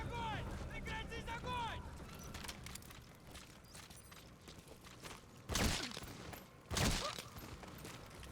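Gunfire in the video game Metal Gear Solid Phantom Pain, two sharp loud bursts standing out over a busy game soundscape with speech-like voices and whistling tones early on.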